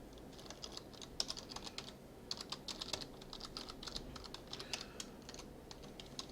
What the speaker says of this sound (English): so we're gonna type in something else here